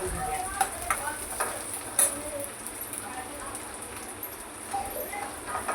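White sesame seeds dry-roasting in a pan with garlic and peanuts, giving a soft, steady crackle with scattered light ticks and scrapes from stirring, moderately close and fairly quiet, with a faint voice now and then.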